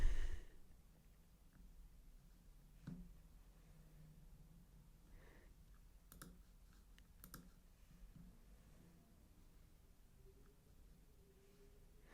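Faint computer keyboard clicks while deleting items during an online store setup, a few sparse, quiet taps with soft breathing in a hushed room.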